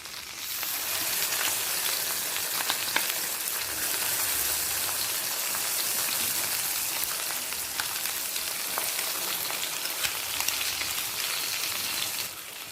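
Black cumin and mustard paste hit hot oil in a pan for Bengali fish jhal, giving a loud, dense, continuous crackling sizzle like heavy rain that runs unbroken to the end.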